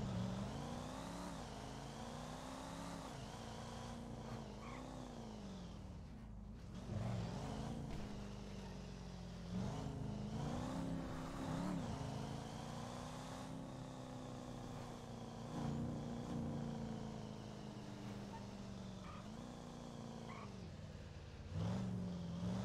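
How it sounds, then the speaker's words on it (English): A loud truck engine in a roleplay driving game drones and revs steadily throughout, rising and falling in pitch with heavy, sustained rumble. "This truck's loud as hell."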